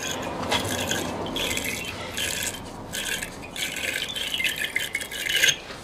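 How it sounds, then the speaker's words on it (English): A small wire brush scrubs the inside of a car battery terminal in repeated rough, scratchy bursts, close and fairly loud, with rattling metallic rubbing. "this little wire brush cleans the inside of the terminal"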